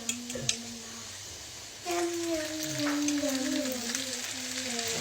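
Onion and eggs frying in a pan at home, a soft steady sizzle that jumps louder partway through as food goes in, with someone talking over it.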